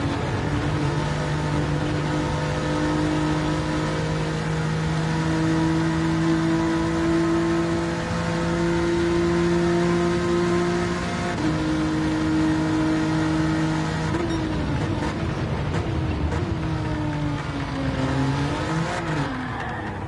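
A race car engine roars through an on-board lap of Spa-Francorchamps in an online racing game league, holding a loud, steady, high whine with pitch rising and dropping through gear shifts and a rougher, wavering stretch near the end.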